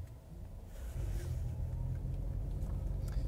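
A 2012 Fisker Karma electric sports car pulls away under battery power, a low, close rumble of motor and tyres that swells after the first second and then holds steady, with faint speech in the background.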